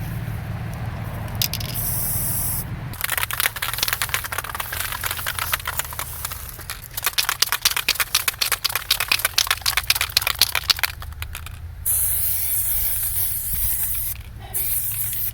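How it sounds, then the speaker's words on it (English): A spray can hisses in several bursts, first brief sprays, then a longer sputtering, rattly spray, then steady hissing again, close and loud. "With these spray cans, the way they recommend to clean off the cap here"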